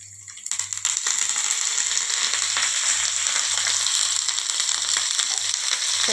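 Punugulu, spiced batter fritters with green chilli and curry leaves, fry in hot oil with a loud, continuous crackling sizzle that swells in after a moment and holds steady.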